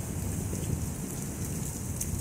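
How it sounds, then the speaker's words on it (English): A strong outdoor gust of wind roars continuously, loud and broadband, like heavy buffeting with a rain-like hiss, no talk. "Pretty big gust of wind."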